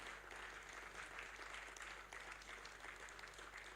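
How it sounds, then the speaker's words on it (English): Steady audience applause fills a hall at an architecture conference, a dense, even wash of clapping held at constant loudness throughout with no pauses. "Please clap for him."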